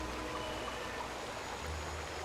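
Steady rushing waterfall in the game World of Warcraft, a continuous even wash of flowing water with no breaks, no talk over it.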